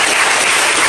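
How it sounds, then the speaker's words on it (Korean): A church congregation gives welcoming applause, heard as loud, dense, continuous clapping that fills the whole moment. "우리 환영의 박수 한번 하겠습니다"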